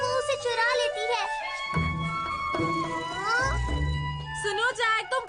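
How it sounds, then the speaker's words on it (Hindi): A black cat meows in a Doraemon cartoon, several drawn-out, rising and falling cries over background music with a voice talking. "वो एक काली बिल्ली है"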